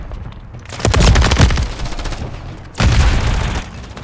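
Gunfire in Call of Duty Modern Warfare 3 multiplayer, two loud close bursts of rapid automatic fire with a short gap between them, each trailing off into echoing shots.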